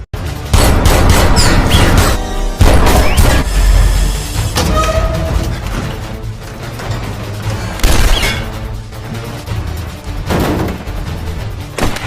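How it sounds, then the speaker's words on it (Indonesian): Rapid bursts of gunfire crack through a loud film car chase, mixed with crashes, roaring motion and a dense action soundtrack, with no voices clearly heard. "terjadilah aksi kejar-kejaran yang dibumbui dengan tembakan"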